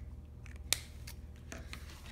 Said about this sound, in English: You can use the big scissors as long as you're careful, and you are going to start cutting very carefully around your car.